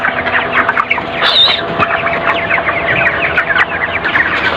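A crowd of broiler chickens on a farm clucks and chatters continuously, close by and fairly loud, with overlapping calls and no talking.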